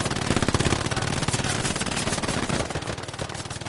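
Machine gun firing in the video game Hell Let Loose, rapid continuous bursts of loud, close gunfire rattling without pause for nearly four seconds.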